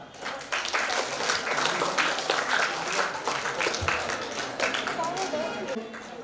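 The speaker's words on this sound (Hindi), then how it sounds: "राजेश शर्मा जी के लिए तालियां।" An audience at a state school chess championship ceremony applauds, a dense burst of clapping that rises quickly and holds, with voices talking over it.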